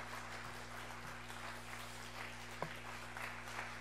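A church congregation at a Sunday worship service applauds steadily at a moderate distance, with a soft even wash of clapping and a faint background hum.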